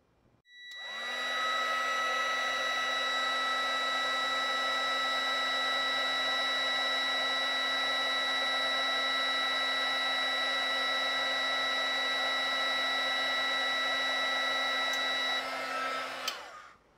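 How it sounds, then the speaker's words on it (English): A heat gun blows steadily at close range onto the overload protector disc of an electric motor, a loud continuous whooshing hum with a fixed tone that switches on, holds for about fifteen seconds, and cuts off. "I'm going to take my heat gun and direct it right at that disc."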